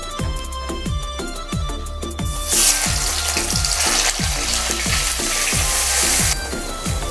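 Onion paste fries in hot oil for jackfruit biryani, a steady loud sizzle with a regular beat of stirring scrapes, while a brighter hiss swells for a few seconds midway. No one talks.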